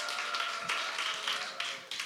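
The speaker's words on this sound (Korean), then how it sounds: "큰 박수!" Audience at a Sunday church youth service applauding as the guest speaker is called forward, a steady wash of clapping with a few louder bursts, fairly distant and even throughout.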